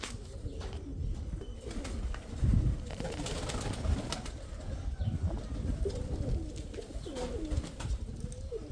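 A flock of pigeons cooing steadily and overlapping during feeding, with soft rustling and occasional wing flutters in a busy, close setting.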